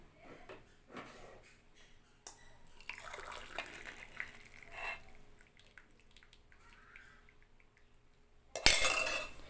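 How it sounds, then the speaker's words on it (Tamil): A boiled drink for the belly and waist being poured through a strainer after the stove is turned off, with metal clinks and scrapes, running liquid and a loud closing splash, close by and without speech. "இப்போ ஸ்டவ் ஆஃப் பண்ணிக்கலாம். இப்போ இதை வடிச்சிருவோம்."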